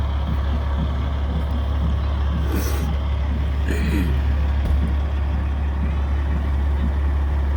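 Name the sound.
Peterbilt tractor truck pulling a flatbed in a parade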